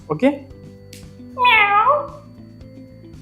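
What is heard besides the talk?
cat meowing played from a tape recorder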